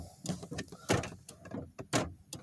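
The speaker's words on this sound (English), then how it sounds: "you shut your door," A 2010 Mazda3 car door is shut, giving several sharp thuds and clunks in close succession, fairly loud and near, with some rattling between the impacts.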